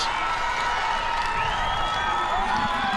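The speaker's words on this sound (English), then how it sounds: "The Coleman crowd is electrified" A packed home crowd roars and cheers at the 2012 WIAA Division 4 high school baseball championship between Coleman and Johnson Creek, a dense, loud, continuous wall of shouting and applause with no break.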